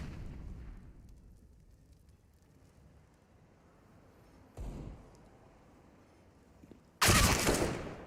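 Gunfire in a Counter-Strike: Global Offensive esports match on the Overpass map, with one sharp shot midway and a loud, dense burst near the end over a quiet, low rumble.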